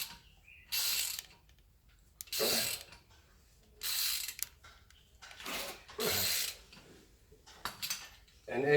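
Ratchet wrench with a 19mm socket tightening a tamper-proof anchor nut, six bursts of rapid clicking separated by short pauses, close and loud.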